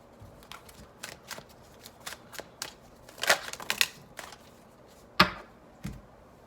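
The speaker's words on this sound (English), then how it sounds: "shuffling them shouldn't take much longer" Tarot cards from the Ostara Tarot deck being shuffled in a series of quick, crisp riffles and taps, with a few louder card snaps close to the microphone and no talking.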